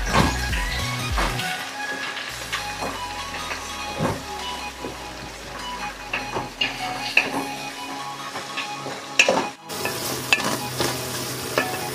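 Three medium sliced tomatoes frying in a pan until soft, a continuous sizzle with repeated scraping and stirring clatter, a low hum early on that fades away, no speech.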